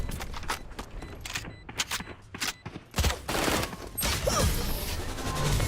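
Rapid gunfire in the video game Valorant: a fast burst of sharp shots, then denser overlapping fire and impacts, loud and close.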